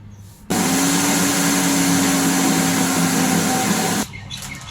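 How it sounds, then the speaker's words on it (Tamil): A large electric mixie grinder runs steadily at full power for about three and a half seconds, a loud, even whirring drone with a faint hum before it starts and after it stops. "ஸோ அதனால் நான் வந்து பெரிய மிக்சி எடுத்துக்கிறேன்."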